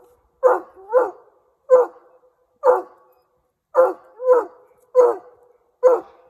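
A young hound from Kentucky bays at an animal up a tree, loud, close barks coming singly and in pairs with short silent gaps between them.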